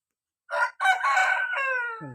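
A rooster crows loudly and close by in fog on a rural Thai morning, one long drawn-out call with a brief break near its start, and a short cluck at the end.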